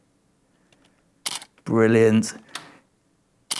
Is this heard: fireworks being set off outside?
no